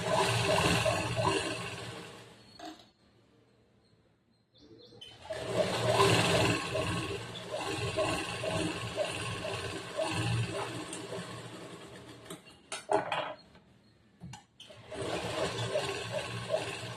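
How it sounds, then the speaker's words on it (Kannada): A sewing machine double-stitching chudidar pants, running in close bursts of rapid whirring with brief pauses and handling noises between runs. "ಡಬಲ್ ಸ್ಟಿಚ್ ಮಾಡ್ತಾ ಇದ್ದೆ ನಾನು."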